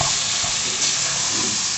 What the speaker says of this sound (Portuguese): Agora eu tô refogando a carne.